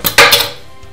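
A Swedish kitchen knife drops point-first onto a Zigmund & Shtain kitchen sink, giving one sharp metallic clang followed by a short ringing decay, with no talking.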